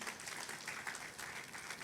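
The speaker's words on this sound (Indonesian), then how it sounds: "Tepuk tangan dulu untuk Tuhan." A church congregation applauds during a worship service, a dense, even wash of many hands clapping together that carries steadily for about two seconds.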